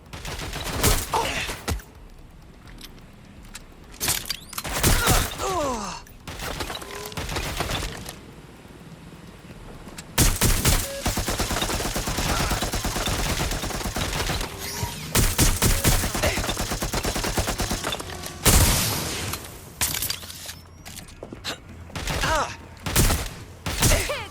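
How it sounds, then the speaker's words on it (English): Heavy gunfire in the video game Watch Dogs: Legion, bursts of rapid automatic shots coming in loud, repeated volleys separated by brief lulls, with occasional voices in the mix. "I'm getting shot at here!"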